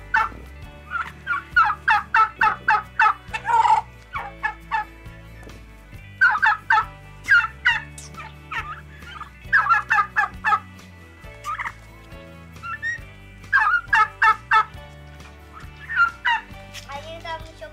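Turkeys, including a one-eyed bird, gobble on a village farm in loud, repeated bursts of several rapid calls, with short pauses between the choruses and close, clear calls throughout.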